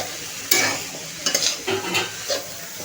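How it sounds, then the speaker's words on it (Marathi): Street-style chicken noodles tossed with vegetables in a hot pan, a close sizzle broken by several scraping stir strokes over about three seconds, with no talk. "हे पहा, भाज्या आणि नूडल्स मिक्स करून घेऊया छानपैकी."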